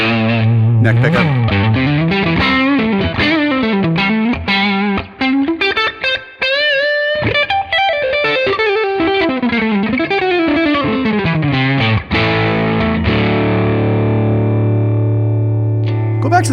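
Warm, overdriven electric guitar on the neck pickup, through a Tonex capture of an OD1 overdrive without fat settings, plays rising and falling melodic runs, ending on a long ringing low note, loud and close with no talking.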